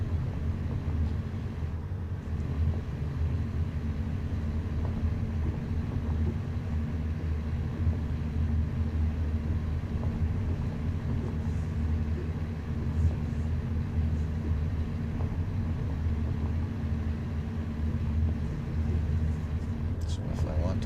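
A sim-racing car engine, driven through a Logitech G29 wheel and shifter without the clutch, drones steadily with a low rumbling tone throughout, with no clear breaks for gear changes.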